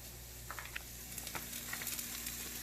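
Onions for a potato onion curry frying in a pan as they start to brown, a faint, steady sizzle with scattered small crackles and pops throughout.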